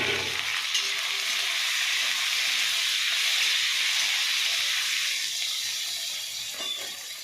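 Tomato goes into a hot masala base being cooked for kabuli chana, raising a loud, steady broadband sizzle and hiss that holds throughout and eases slightly near the end, with no talking.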